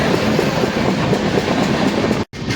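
A train rolls through Vasai railway station in Maharashtra with a loud, steady rumble and rattle of carriages close by, cut by a brief dropout near the end.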